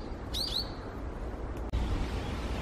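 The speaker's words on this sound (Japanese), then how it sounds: "ヒヨドリのね、めっちゃ鳴いてる。" A brown-eared bulbul in Hokkaido gives one brief, shrill, rising call near the start, fairly close. Steady outdoor background noise runs underneath, with a single sharp click later and no talking.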